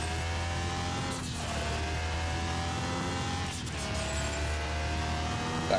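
A tuned Toyota Supra of over 400 horsepower in Car Mechanic Simulator 2021, running in sixth gear at around 200 km/h: a steady, close engine drone with two brief dips where the pitch shifts between sustained pulls.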